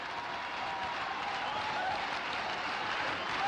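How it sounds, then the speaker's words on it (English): Cricket stadium crowd at a 1991 India versus West Indies match in Sharjah applauding a wicket, a dense, steady roar of clapping and cheering that stays loud and continuous throughout. "The crowd electrified."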